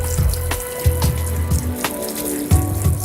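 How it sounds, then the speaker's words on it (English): A hot barber's towel is wrung out over a sink, water splashing and trickling in several uneven bursts, close and fairly loud, with no talking. "Now I'll just give the towel a bit of a wring out."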